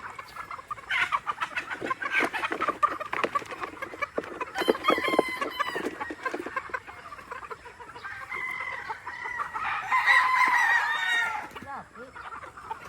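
Roosters and young stags on a farm crow and cluck repeatedly, several birds near and loud in overlapping calls, while people talk in the background.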